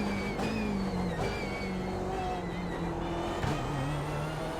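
A BMW M8 race car engine in iRacing at Summit Point drones loudly and steadily, rising and falling in pitch through gear changes and throttle, up close and continuous with no talk.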